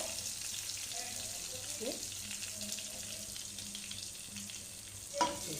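Cumin seeds crackling in hot ghee for a mung and masoor dal tempering, a steady soft sizzle with faint scattered pops and a sharp clink near the end, no talk.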